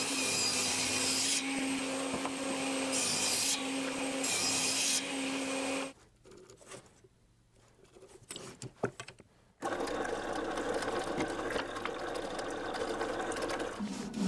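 A band saw cutting a wooden circle on a circle-cutting jig in a workshop: a loud, steady whining run of blade and motor, a quieter gap of a few seconds with small knocks, then the cutting drone returns.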